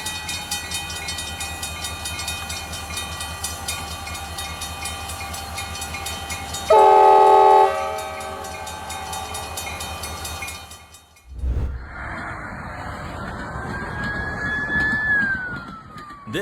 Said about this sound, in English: This runaway train car hits 70 miles per hour with no brakes, no driver, just vibes.